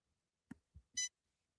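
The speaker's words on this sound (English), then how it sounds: "And when you're on just one beep is what you want." A light mode switch on a race car being built gives one short, faint electronic beep, preceded by a couple of soft low clicks in an otherwise quiet setting.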